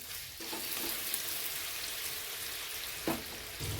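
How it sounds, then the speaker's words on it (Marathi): Paneer fries in oil over a high flame with a loud, continuous sizzle. Stirring and turning make a couple of sharp clatters from the utensil along the way. "मस्त खरपूस रंगावर पनीर आपल्याला परतून घ्यायचे आहे"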